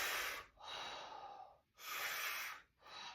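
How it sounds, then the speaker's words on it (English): Slow, deep breaths during a squat stretch, two long airy inhale-exhale cycles close to the mic, quiet and unhurried with short pauses between, no talking. "And now 6 more breaths here."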